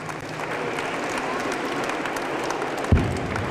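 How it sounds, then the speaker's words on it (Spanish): At a school Christmas carol festival, an audience applauds to welcome a councillor, a steady moderate crowd of clapping heard from within the hall, with a brief thump near the end. "Le recibimos con un fuerte aplauso."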